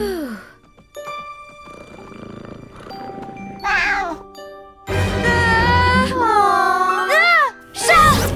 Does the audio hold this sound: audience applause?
no